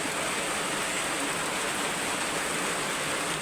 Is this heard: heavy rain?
yes